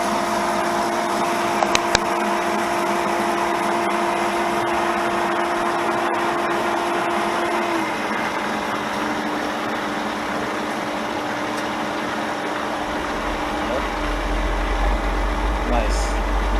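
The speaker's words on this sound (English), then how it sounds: "Yep, the blower is on. The heater blower is on." A pool and jacuzzi water heater's blower runs as a steady, continuous mechanical hum with a constant drone, and its pitch drops slightly partway through.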